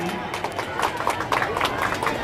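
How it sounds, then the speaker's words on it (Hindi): A crowd at an Independence Day awards ceremony claps steadily for a recipient, a loud, even roar of many hands with a speaker's voice rising over the applause. "जोरदार तालियां इनके लिए।"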